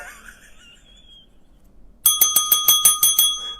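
A bell rings rapidly about eight times in a bright, metallic, evenly spaced burst, loud and close, after a quiet whistling tone at the start.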